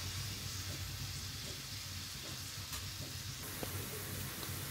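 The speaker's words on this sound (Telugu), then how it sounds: "అప్పుడు దానిలో ఆనియన్స్ పచ్చిమిరపకాయలు కూడా వేసుకొని బాగా ఫ్రై అవనివ్వాలి" Onions and green chillies with curry leaves fry in a pan for a Telugu bhindi iguru, giving a steady broadband sizzle with faint stirring scrapes throughout, close and even in level, with no talk.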